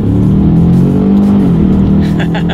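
A 2018 Ford Explorer SUV with a twin turbo V6 accelerates hard, its engine a loud, steady, close drone that holds strong for the whole stretch.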